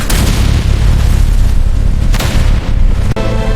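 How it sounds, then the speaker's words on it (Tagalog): Gunfire and explosions fill an animated war battle set in Marawi, with continuous loud booming blasts and sharp cracks layered densely together, close and overwhelming with no pauses. "Biglang sumiklab ang matinding bakbakan!"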